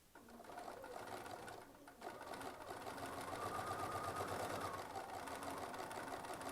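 A sewing machine stitches a quilt medallion, running in a fast, steady whirring rhythm after a brief start, close and clear with no talking over it.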